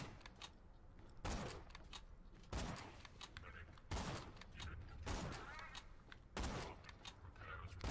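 Pearlescent Godfinger Jakobs sniper rifle from Borderlands 2 firing repeatedly, about five loud sharp shots at a steady pace, each followed by a brief decay, over constant game background noise.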